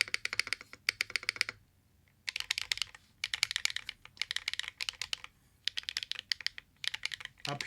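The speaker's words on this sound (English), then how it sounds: "Spacebar sounds good too." Keys clack on an Infinite70 custom mechanical keyboard, including the spacebar, in quick close bursts of crisp typing broken by brief pauses, with no voices.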